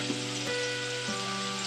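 Spices with salt sizzling steadily in hot oil in a pan for beans palya, a soft even frying hiss with faint stirring clicks, no talk.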